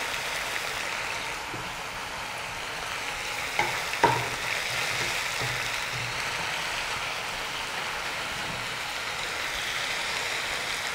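Veg dry Manchurian fries in a pan with a steady, soft sizzle, broken by a few clinks and scrapes as the mix is stirred, close and fairly quiet, without talk.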